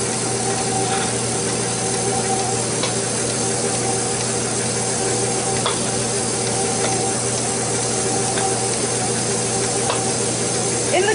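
A KitchenAid stand mixer whips Swiss buttercream finishing icing for a three-tiered wedding cake, giving a steady, loud mechanical whir with a continuous spinning hum that holds level throughout, with no talk.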